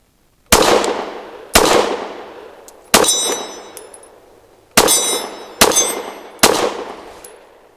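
Six loud, sharp pistol shots from a ported Canik METE MC9 Prime fired in darkness, spaced irregularly, each followed by a bright metallic ring from a struck steel target.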